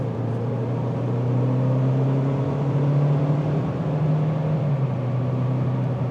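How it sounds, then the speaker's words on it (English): GMC Terrain AT4 AWD engine heard from inside the cabin, a steady muffled drone with a faint rising and falling hum over road noise, constant and moderately quiet throughout. "you can definitely still hear the engine"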